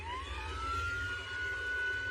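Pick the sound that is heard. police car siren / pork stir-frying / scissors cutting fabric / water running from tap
police car siren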